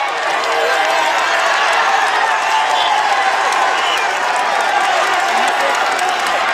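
A large roadside crowd at the top of the Col de Peyresourde cheers and applauds as cyclist Thomas Voeckler passes during the 2012 Tour de France. The roar is dense, loud and steady throughout, with claps and shouts blended into a continuous wash.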